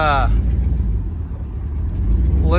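A worn, rattly Ford Expedition with a disconnected wheel speed sensor runs and drives: a steady, loud low engine and road rumble fills the clip, with brief voices at the start and end.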